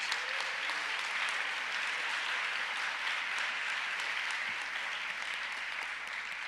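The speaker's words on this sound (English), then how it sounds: "May I have a round of applause?" A crowd applauds steadily and evenly for several seconds at a school convocation, a dense wash of clapping with no voices.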